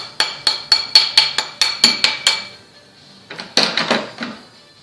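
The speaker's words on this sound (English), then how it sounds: "to bend this end round, we hammer it against the tool" Sharp metallic hammer taps ring out as a silver ring is hammered against a mandrel, in a quick, even series of about nine blows, then a short pause and a few more strikes.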